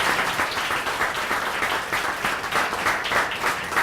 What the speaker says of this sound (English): we should give a big round of applause to the Little Brothers volunteers and leadership for making this event happen